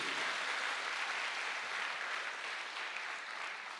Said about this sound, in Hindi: तो एक जोरदार तालियां होनी चाहिए हमारे नए गेस्ट के लिए